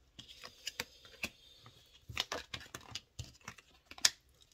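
Playing cards fall and land in a quick, irregular patter of light slaps and flicks, close and fairly quiet, with short gaps between clusters.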